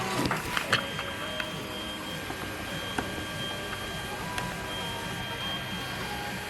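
A 3D printer on a balcony starting its print job, with steady motor whirs and stepping tones, a few early clicks, then continuous mechanical humming at moderate level without talk.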